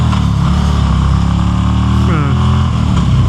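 A 2026 Harley-Davidson Road Glide Limited V-twin revs hard toward redline, a loud, steady rumbling engine that rises in pitch partway through, heard up close with some talk over it.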